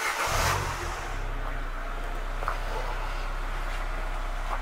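A car starts with a brief rev, then settles into a steady idle, a low continuous engine drone heard close and unchanging for several seconds.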